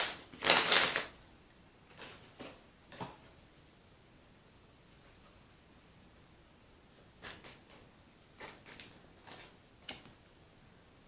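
Tarot cards riffled and shuffled in a quick loud burst near the start, followed by scattered soft taps and flicks as individual cards are handled and drawn in a quiet room.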